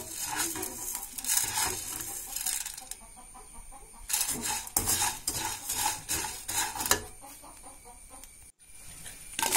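Food being dry-roasted in a pan is stirred in repeated bursts of scraping and rattling, close by, with brief quieter pauses between the bursts.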